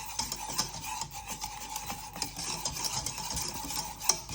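A whisk scrapes and stirs thick orange curd around a pan, reaching into the edges, with a steady run of soft rasping strokes and small clinks, fairly close and with no talk.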